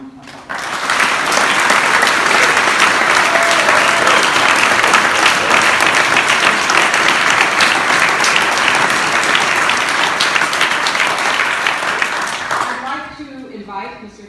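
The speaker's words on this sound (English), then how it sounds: "So please join me in giving our 2023 Praemium Imperiale laureates another round of applause." A large audience at the White House applauds the 2023 Praemium Imperiale laureates, a loud, dense ovation sustained for about twelve seconds before quickly dying away.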